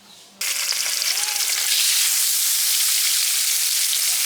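Rohu fish fries crisp in oil, with a sudden loud, bright sizzle that starts abruptly and holds steady and close for the rest of the time.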